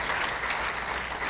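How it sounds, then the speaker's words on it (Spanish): A fairly loud farewell round of applause for engineer Percy Dávalos at a SENATI event, continuous clapping from a seated audience with no voices over it. "Vamos a despedir con un fuerte aplauso a la participación del ingeniero Percy Dávalos"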